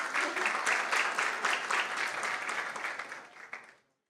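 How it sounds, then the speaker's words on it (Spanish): A crowd at a technology, privacy and cybersecurity conference claps steadily for a few seconds, a dense patter of applause that cuts off abruptly at the end. "un aplauso para Tamta"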